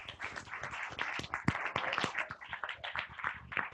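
A meetup crowd at a big data gathering in Argentina claps in a loose burst of scattered applause, moderately distant and fairly soft, with no one speaking over it.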